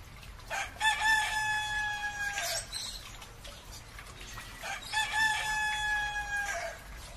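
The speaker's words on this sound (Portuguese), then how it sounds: "Despertei com o cantar insistente do garnizé." A bantam rooster crows twice, each call a long ringing cock-a-doodle-doo a few seconds apart, set against faint outdoor background noise.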